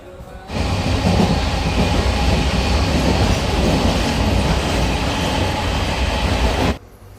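A Santipur–Sealdah local train runs at night, a loud, steady rumble of wheels and carriages with rhythmic rail clatter that starts abruptly and cuts off at the end.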